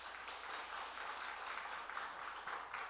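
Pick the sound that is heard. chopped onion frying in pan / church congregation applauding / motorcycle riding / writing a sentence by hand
church congregation applauding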